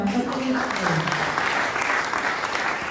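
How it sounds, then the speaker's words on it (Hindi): A church seminar audience claps for a child, steady dense applause filling the short stretch with a voice briefly audible at the start. "बच्चे के लिए ताली बजाओ"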